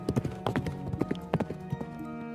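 A ridden horse's hooves clip-clop in an uneven, fairly close rhythm of sharp knocks at dusk on the way home to the stable, with no talk.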